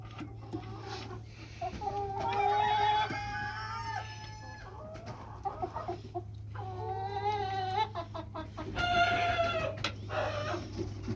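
A pet chicken clucking and making drawn-out, warbling calls indoors, several bursts in a row close by, with a steady low hum underneath and a little background noise between calls.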